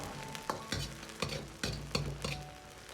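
Scallion and garlic stir-fried in a little cold oil in a wok, a soft sizzle broken by sharp, regular clanks of a spatula against metal, about one every half second, close and fairly quiet.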